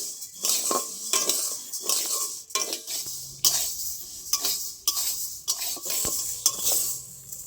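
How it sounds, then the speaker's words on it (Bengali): Rice dry-roasting in a pan for puffed rice is stirred in repeated scraping and rattling strokes, the metal spatula clinking against the pan in an uneven rhythm, close and alone with a light sizzle underneath. "চালটা নাড়তে নাড়তে আরও একটু নেড়ে নেবো ভালো করে"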